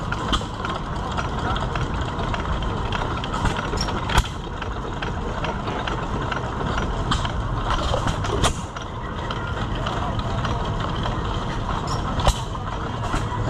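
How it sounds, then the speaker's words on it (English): An air-cooled Gade gas engine runs at a county fair display, its steady mechanical chugging and clatter under someone talking nearby, with other engines and fair noise around. "Nice little air-cooled Gade."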